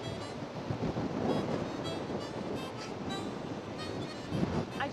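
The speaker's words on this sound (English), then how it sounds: "here comes a windstorm like we have never seen. The wind picked up so much that it's creating a dust vat." Hard windstorm gusting across open Kansas country, kicking up dust and pushing on trees, a dense, steady roar of wind buffeting the microphone that swells slightly in the middle and near the end, with no voices.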